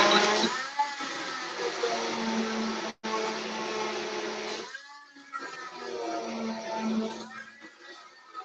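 A blender runs while mixing soap, a steady whirring motor hum that starts, cuts out briefly, then resumes with a changing pitch as the mixture churns, loud and close.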